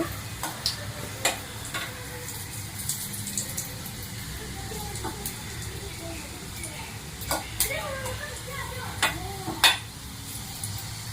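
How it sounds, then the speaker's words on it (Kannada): Ginger and garlic fry in a pan for a coconut and red chutney, a soft continuous sizzle broken by scattered ticks and a few spoon scrapes, with faint, indistinct voices now and then. "ಶುಂಠಿ ಮತ್ತು ಬೆಳ್ಳುಳ್ಳಿನ ಸ್ವಲ್ಪ ಚೆನ್ನಾಗಿ ಫ್ರೈ ಮಾಡ್ಕೋಬೇಕು"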